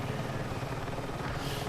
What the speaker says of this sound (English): how to properly fly and utilize the attack helicopter in Battlefield 6